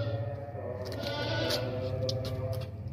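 Large goat with a kid nearby, bleating repeatedly at close range over a steady, busy background of farm noise, with no talking.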